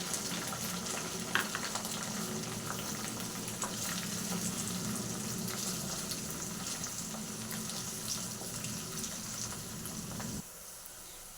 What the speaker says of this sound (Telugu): ఇది బాగా ఫ్రై అయిన దాకా మనం ఫ్రై చేసుకున్నాము.